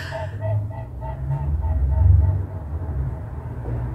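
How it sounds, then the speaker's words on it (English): Geese honk in a rapid repeated series at a distance, a rhythmic run of nasal calls over a low rumbling background, with a person speaking softly underneath. "Did you hear that? I think that was some geese."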